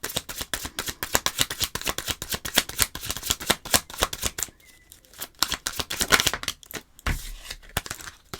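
Tarot cards shuffled by hand in a rapid, steady stream of crisp riffling flutters, briefly pausing partway and then resuming with a few sharper slaps, close and fairly loud with no voices.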